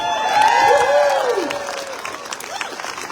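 A crowd at a community rally applauds and cheers, with sustained clapping and whoops near and loud, then fading into scattered claps.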